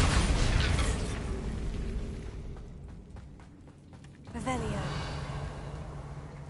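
A Bombarda spell blast in Hogwarts Legacy, a loud burst at the start that rumbles and fades under steady game ambience, then a second swell of magical noise near the end.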